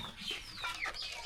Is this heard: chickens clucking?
yes